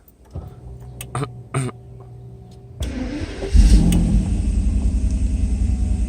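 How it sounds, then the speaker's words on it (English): A Mercedes W140 engine cranks with a few short bursts, then catches and settles into a steady, loud idle. "Okay, so the engine is running."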